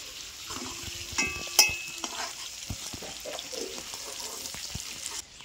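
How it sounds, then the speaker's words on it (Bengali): Fried fish is lifted out of a pan of hot oil, with a soft continuous sizzle, a few sharp metallic clinks and scrapes of a utensil against the pan, and occasional light knocks. "তো মাছটা আমার ভাজা হয়ে গেছে, এবার আমি তুলে নিচ্ছি।"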